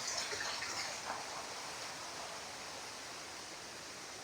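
Outdoor shower at a riverside bathing spot pouring water in a continuous, even hiss, soft and steady throughout with no talk over it.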